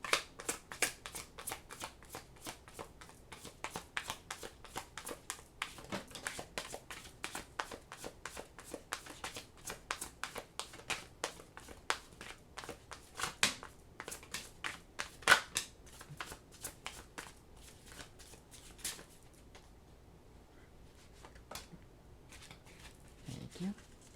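Tarot cards being shuffled over and over, sharp riffling flicks and rapid papery taps in dense bursts, slowing and thinning near the end with a brief pause in the handling.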